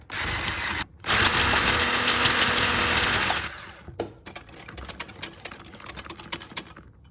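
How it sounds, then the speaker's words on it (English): An electric whisk on low power mixes heated milk, a steady whirring motor drone that runs for about three seconds after a brief first burst, then cuts off, leaving faint clinks and rattles. "I should actually just kind of get the whisk involved here"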